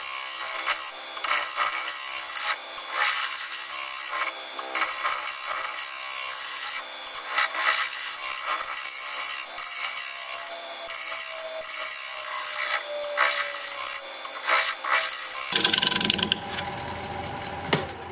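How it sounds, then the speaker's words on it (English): Steady abrasive scraping of a freshly sharpened scraper against spinning madrona wood on a lathe, a continuous rasping hiss with slight rhythmic pulsing, close and fairly loud, ending in a brief rougher burst. "I'm going to put a fresh edge on my scraper and we'll scrape."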